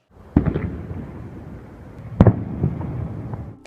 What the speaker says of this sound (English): a frostquake.